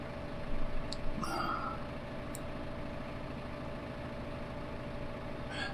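A Steyr tractor idling in a farming video game, a steady low engine drone holding even throughout with a couple of faint clicks near the start.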